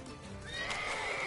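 Roach, Geralt's horse in the video game The Witcher 3, gives a single quiet whinny that rises into a thin, wavering neigh and trails off, with faint background game ambience.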